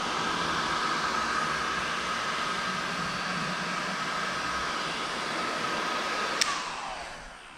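A heat gun blowing hot air while warming clear bra paint protection film on a vehicle fender: a steady, loud whooshing hiss with a whine in it, running continuously before a brief click and a tapering fade as it switches off.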